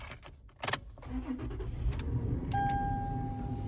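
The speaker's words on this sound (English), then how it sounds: "when I start the car" A Toyota 4Runner engine starting: a few clicks and a sharp burst as it catches, then a low idle hum that settles, with a steady electronic chime tone near the end.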